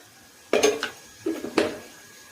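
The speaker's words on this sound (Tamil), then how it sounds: "நல்லா மிக்ஸ் பண்ணி விட்டுடுங்க" Salt and chilli powder are stirred in a pan, with a few close metallic scrapes and clinks of a spoon against the pan in two short bursts over a faint background.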